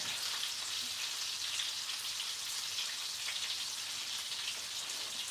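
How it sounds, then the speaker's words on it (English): Onion sizzles in a hot pan in a home kitchen, giving a steady, even crackle like light rain. It stays quiet and unbroken throughout, with no talking. "Okay, so we got the onion in the pan."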